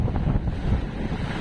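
Steady wind buffets the microphone on a boat at sea in choppy water, a dense low rumble of gusts and waves running through the whole short stretch.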